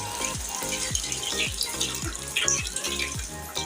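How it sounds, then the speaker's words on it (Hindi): Water gushes steadily from a tap in a village home's kitchen, a continuous close rushing stream with no voices. "ऐसा पानी आ रहा है"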